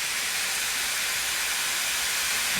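A heritage steam train on the Tanfield Railway hisses steam in one continuous, even, breathy rush, steady and fairly loud for the whole stretch with no pauses or other sounds.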